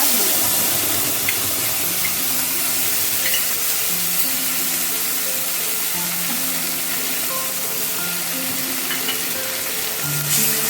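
Mustard-seed tempering sizzles steadily in a pan over lowered gas for a Bengali mango and eggplant chorchori, a continuous close frying hiss with faint crackles and no talk.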